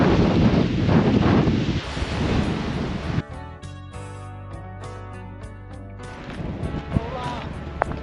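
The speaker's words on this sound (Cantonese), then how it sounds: "因為好大風啊" Strong wind buffets the microphone in Hooker Valley near Mt Cook, a loud gusty roar that drops away midway, leaving quieter outdoor ambience with a faint tonal hum and occasional bumps.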